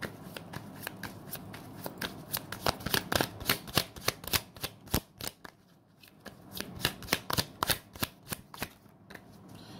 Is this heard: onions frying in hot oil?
no